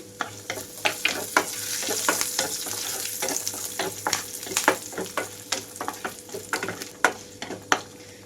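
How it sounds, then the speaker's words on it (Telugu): Cashew pieces and curry leaf sprigs fry in hot oil for rice rava and moong dal upma, a steady close sizzle broken by frequent sharp crackles and pops as the leaves hit the oil, no voices. "ఇక్కడ కరివేపాకు రెమ్మలు కూడా వేస్తున్నాను"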